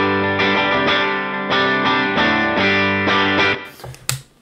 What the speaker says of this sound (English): It sounds like I'm in a real space and I feel that echo.